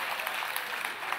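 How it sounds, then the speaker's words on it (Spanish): Lively crowd applause at a comedy cabaret show in Monterrey, a brief, dense burst of clapping heard close and full, with no voices on top. "El aplauso para Mauricio y Brenda"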